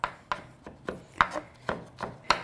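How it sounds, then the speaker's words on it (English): Garlic being minced with a knife on a board, a run of crisp, evenly spaced chops, close and clear with no talking. "This I want minced. I don't want a big chunk of garlic with my feta."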